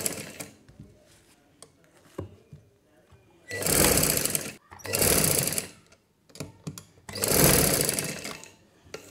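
Sewing machine stitching lace onto a baby girl's frock, running in three loud, close bursts of several seconds each, separated by brief pauses with faint handling noises.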